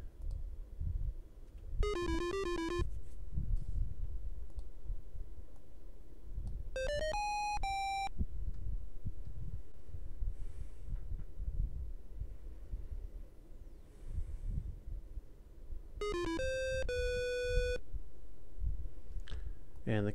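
Chessmaster chess video game music: short bright electronic chime phrases sounding three times at spaced intervals over a low, soft background rumble, with no speech.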